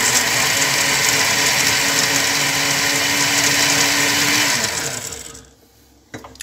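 A blender grinds prickly pear loudly and steadily for several seconds, then its motor winds down and stops, leaving near silence.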